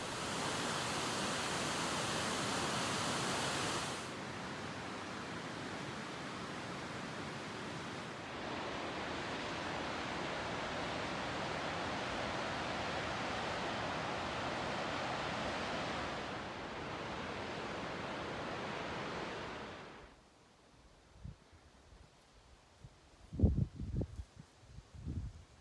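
Water of Periodic Springs in the Salt River Range rushes in a steady, broad hiss that shifts in level over about twenty seconds, then cuts away to quiet outdoor ambience with a few faint knocks.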